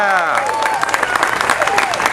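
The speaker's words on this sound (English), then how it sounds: "give him a nice round of applause" A crowd at an amusement park ride opening ceremony applauds and cheers for the park's new general manager, dense and loud clapping with voices whooping over it.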